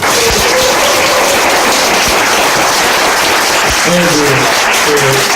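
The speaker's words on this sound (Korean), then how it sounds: "다시 한번 큰 박수 부탁드립니다" Loud, dense applause after a lecture on judicial reform fills the whole stretch, steady and continuous, with a few voices calling out above the clapping.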